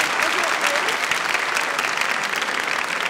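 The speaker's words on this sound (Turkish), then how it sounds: "bir de yerlerine otururken bir gümbür gümbür. Alkışlarla otururken." Studio audience at a 1997 television show breaks into loud, sustained applause, a thick continuous wash of clapping from a large crowd throughout.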